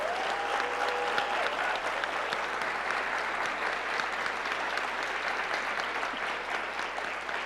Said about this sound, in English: clapping for each one of these incredible mayors from our cities